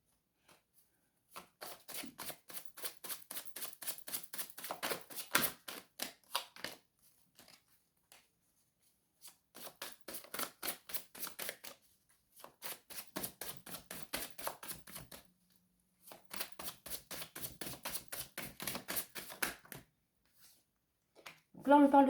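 Tarot cards are shuffled by hand in several runs of soft, rapid riffling and flicking, each lasting a few seconds, with short pauses between, close and quiet.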